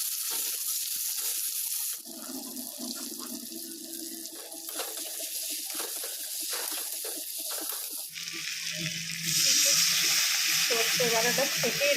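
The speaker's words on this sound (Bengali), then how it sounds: "এবার ওই তেলটা দিয়ে একটু কালো জিরে ফোড়ন দিয়ে দিলাম" Nigella seeds tempering in hot oil for a fish curry, a soft continuous sizzle and crackle at close range with faint clinks of stirring, no talking.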